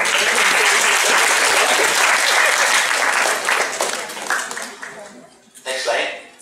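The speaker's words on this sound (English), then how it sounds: "Round of applause to Ron, please." A lecture audience breaks into loud, full applause that stays dense for a few seconds, then thins into scattered claps and fades, with a brief renewed burst and some voices near the end.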